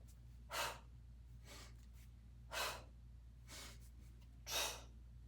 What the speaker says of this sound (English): I'm exaggerating the breathing pattern because I really want you to work with the exhale on the exertion.